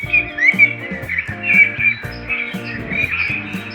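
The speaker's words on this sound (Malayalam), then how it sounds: "ഇവിടെ നിറച്ച് കിളികളൊക്കെ ഉണ്ട് കേട്ടോ" Small birds chirp and tweet in quick bursts, close and clear, over a background of steady, stepping melodic tones.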